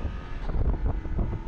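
Steady low, rumbling wind buffeting at the microphone while riding a Voge 900DX motorcycle as a tall rider exposed to the airflow, with a continuous roar and no voices.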